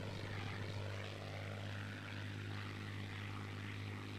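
Propeller aircraft engine drone from the Battle of Britain flight game Scramble, a steady, continuous loud hum with a constant low tone throughout, no speech.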